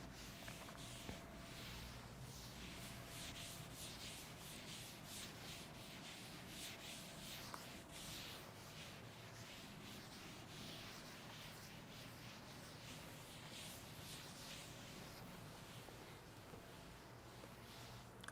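A duster rubbed back and forth across a classroom board during a chemistry lesson, a faint, continuous rhythmic scrubbing that runs unbroken for a long stretch.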